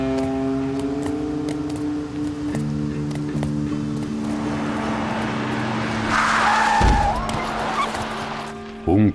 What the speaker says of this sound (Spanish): Un coche atropella a Ligabue